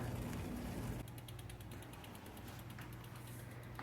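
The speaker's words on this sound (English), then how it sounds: "so that I could spin the wheel and move the chain, and at the same time watch the derailleurs work." Bicycle rear wheel spins freely while lifted off the ground, its freehub ratcheting in rapid even clicks along with soft chain and derailleur mechanism noise, close and steady with no talking.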